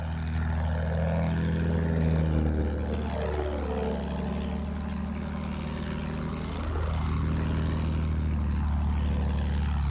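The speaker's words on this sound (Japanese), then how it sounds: "敵の飛行機だ。" An enemy propeller fighter plane in the Battlefield 1 video game drones loudly and steadily, its engine pitch swooping down and back up repeatedly as it banks and passes close overhead, with no talk.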